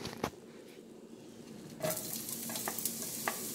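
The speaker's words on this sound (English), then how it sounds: "we're going to add about a tablespoon and a half of cooking oil. Not too much. And we're going to add our vegetables." Green onions, garlic and white onions hit about a tablespoon and a half of hot cooking oil, a faint tap then a sudden rise into steady close sizzling with light stirring scrapes, no voices.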